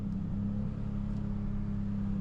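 An Infiniti G35 fitted with an ISR blast pipe exhaust sends out a loud, steady low drone for a couple of seconds with no voices.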